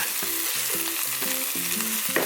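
Mushrooms and spinach stir-fried in a pan for a spinach cream pasta, brisk rhythmic scraping strokes of a spatula over a continuous sizzle, close and loud with no talking.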